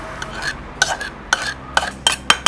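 A spoon stirs fried onion into thick adai dosa batter in a bowl, giving a series of sharp scraping clinks against the vessel, roughly every half second, close and fairly loud with no voices.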